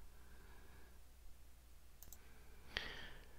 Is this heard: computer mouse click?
yes